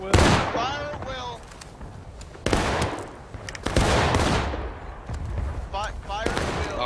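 Musket volleys from the War of Rights video game: loud, near shots in repeated rolling bursts, mixed with shouting voices and crackling gunfire throughout.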